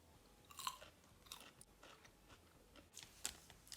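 Someone chews a raw radish spread with butter close to the microphone, with crisp, wet crunches in an irregular rhythm and quiet pauses between bites.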